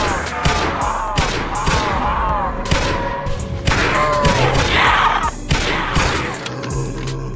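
A G3A3 battle rifle in the video game Project Lazarus fires a rapid series of loud, close shots with sharp impacts and clattering mechanical layers, bursts spaced unevenly over several seconds.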